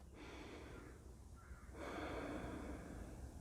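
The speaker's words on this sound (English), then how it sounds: "Take a nice deep breath" A slow, deep human breath in a calm relaxation setting, a soft airy inhale building to a fuller, louder exhale that carries to the end, close and unhurried with no talking over it.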